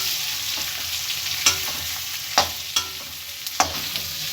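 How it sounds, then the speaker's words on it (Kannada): Sliced onions with turmeric frying in a pan for chicken chitranna, a steady sizzle with a few sharp spatula scrapes and clinks against the pan, close and alone. "ಹಾಕೊಂಡು ಇದನ್ನು ಕ್ಲೀನಾಗಿ ಈ ರೀತಿ ಫ್ರೈ ಮಾಡ್ಕೊಳ್ಳೋಣ."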